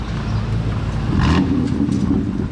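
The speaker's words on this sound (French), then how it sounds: "Ça fait un bon bruit d'M4 digne de ce nom" A BMW M4 fitted with an Armytrix exhaust rumbles nearby on a Monaco street, a loud, continuous low engine growl that swells slightly midway.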